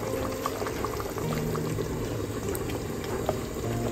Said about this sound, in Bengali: এখন আমি দিয়ে দিব আমার আলুগুলো।